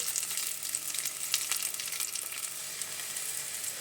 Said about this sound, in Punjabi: ਇਹਨੂੰ ਅਸੀਂ ਸਾਬਤ ਨੂੰ ਭੁੰਨਾਂਗੇ